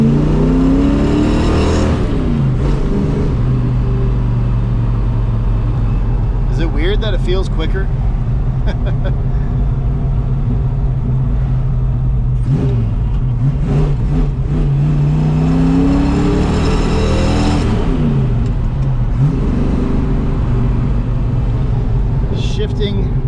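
A 1968 Ford Mustang fitted with headers and a full exhaust pulls hard under acceleration, its engine note rising through revs with gear shifts, loud and close from inside the car while a person talks over it.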